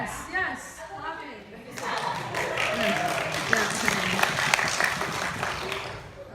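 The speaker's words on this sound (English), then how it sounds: "Yes, clapping." Audience clapping at a debate tournament, a bright burst of many hands starting after a short stretch of talk and continuing loudly and steadily to the end.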